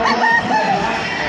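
Game fowl roosters crowing at a fowl expo inside a convention center, loud and close over a busy hall background with overlapping calls.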